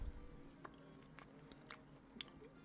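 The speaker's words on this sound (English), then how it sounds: "I know my chewing is kind of loud though" Quiet, close chewing with a few crisp crunches and bites spaced irregularly.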